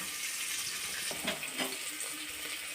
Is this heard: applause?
no